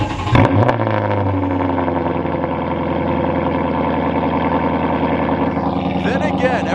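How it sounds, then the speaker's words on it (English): Lexus car engine starting from cold: a sharp starter crank and catch, then a loud, steady fast idle that settles and holds, with a brief higher rise near the end. "every time I hear that cold start"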